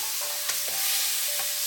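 Softened beef for caldereta sautés in a pan under a constant hiss of sizzling oil, with a couple of faint stirring scrapes; no one speaks.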